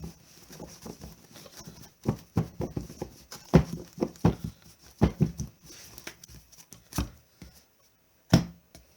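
A Magic: The Gathering Commander deck is shuffled by hand, giving a loose, irregular run of soft card slaps and riffles, close and fairly quiet, with short pauses between bursts.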